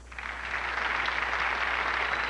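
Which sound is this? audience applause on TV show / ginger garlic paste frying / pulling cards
audience applause on TV show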